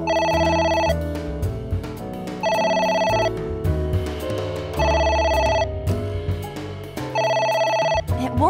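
A telephone in the video game AI: The Somnium Files rings in repeated electronic bursts with short pauses between them, loud and close over game music.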